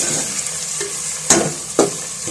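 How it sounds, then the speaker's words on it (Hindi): Boneless chicken pieces frying in a pan for spicy chicken noodles, a steady hissing sizzle broken by a few sharp stirring scrapes, close and fairly loud with no talking. "तो चिकन हमारा फ्राई हो गया"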